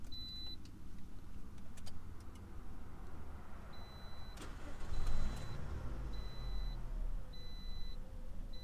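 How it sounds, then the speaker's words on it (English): A 2010 Toyota Corolla engine cranks and catches midway, a brief louder burst settling into a low idle, with faint electronic beeps and clicks from the car's dash around it. "Let's start the car."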